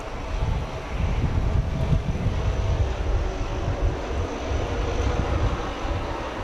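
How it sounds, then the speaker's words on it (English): A fixed-wing airliner's engines roar steadily at Grand Cayman's airport as it passes, a broad, loud, rumbling jet noise that fills the whole stretch without talk. "we'll definitely see this plane taking off."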